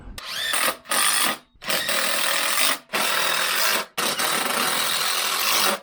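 A power saw cuts a board for a ramp in several loud, close bursts of whining buzz, each broken by a short pause as the blade stops or the cut shifts.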